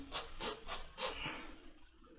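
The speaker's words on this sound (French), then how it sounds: "Prenez votre scie et vous faites ça. Vous rayez." A saw blade rasps back and forth in four short, quiet strokes, scoring a mark on a pipe, with a faint scrape after them.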